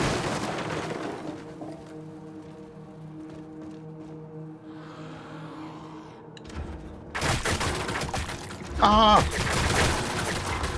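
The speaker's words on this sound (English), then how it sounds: "Guys, what is shooting at us?" Gunfire aimed at the player in Mortal Shell 2 breaks out suddenly after a quiet stretch of droning ambience, loud and rapid, with a short startled shout partway through.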